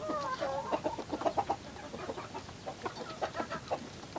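Young chicks cluck and peep busily while eating feed, a close, steady chatter of short overlapping calls and pecking sounds with no talk.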